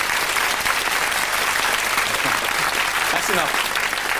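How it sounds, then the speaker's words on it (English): Sustained audience applause fills a theatre show hall with dense, steady clapping throughout, while a voice speaks briefly over it toward the end. "I think it deserves a round of applause."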